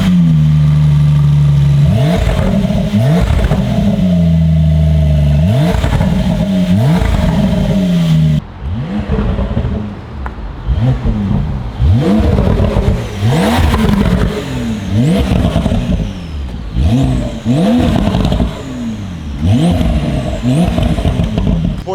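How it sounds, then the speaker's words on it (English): A Porsche 911 Carrera fitted with a G exhaust system revs hard: one sustained high rev, then a run of sharp repeated throttle blips with crackling falloffs, loud and close, with no talk. "You guys get to hear that turbo whistle out of this Porsche."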